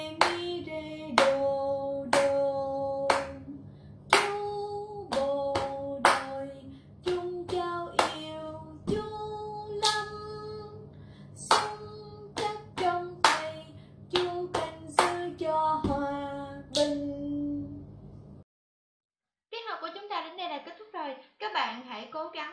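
Children in a music lesson clap their hands to the beat as body percussion. The claps are sharp and close, in a steady rhythm, over a sung melody, and they break off briefly before a few more voices come in.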